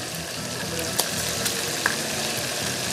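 Chorizo frying in a pan for frijoles charros, a steady close sizzle and crackle with a few sharper pops and stirring scrapes throughout.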